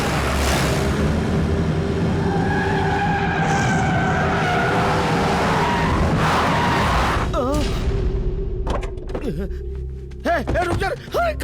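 A car in an action-movie scene skids while turning around, with a roaring engine rush giving way to sharp, wavering tire squeals, loud and close, under shouting voices.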